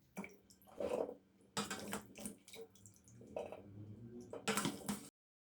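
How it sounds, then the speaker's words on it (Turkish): Washed olives tipped into a colander, bursts of splashing and draining water with rattling olives, coming in several surges close by, with no talk. "3 su yıkamış olduğum zeytinlerimi kevgire alıyorum."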